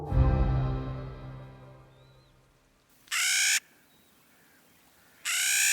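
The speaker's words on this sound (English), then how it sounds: "you're hearing those nutcrackers squawk" Clark's nutcrackers squawk in whitebark pine habitat in late summer, two loud harsh calls set apart by a pause, following a fading low rumble.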